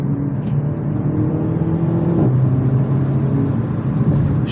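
Renault Megane RS 300 at full throttle in second gear, a steady, loud engine drone heard from inside the cabin, with the pitch climbing and then dipping briefly midway.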